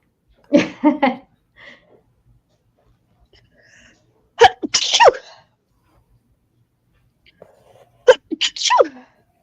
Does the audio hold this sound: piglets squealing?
no